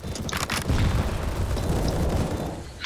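In Counter-Strike on the Overpass map, a grenade explodes as a deep, loud boom that rumbles on for a couple of seconds, with a few brief gunfire-like cracks near the start.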